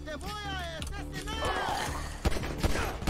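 Gunfire in GTA, with a few sharp shots punching through near the end over a busy mix of game music and effects, while voices talk throughout.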